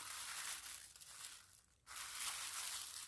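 Plastic bag or stretch film crinkles and rustles faintly but steadily while covering a kneaded hair mixture made with boiled guava, sidr and hibiscus leaves, with a brief hush midway before the crackling resumes.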